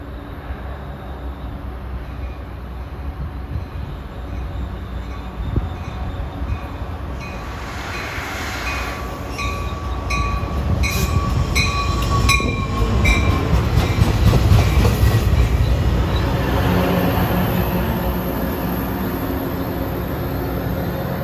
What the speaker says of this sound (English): it's a warm day here as train 503 comes in